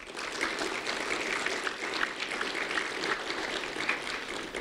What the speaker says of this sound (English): A round of applause for our school board of Lee County.